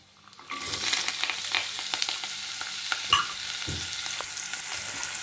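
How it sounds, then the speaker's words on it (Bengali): Chopped onion hits hot oil in a pan with cumin seeds for paneer bhurji, bursting into a loud, steady sizzle that continues alongside occasional stirring scrapes. "পেঁয়াজ কুচিটাকেও আমাকে একটু হালকা করে ভেজে নিতে হবে।"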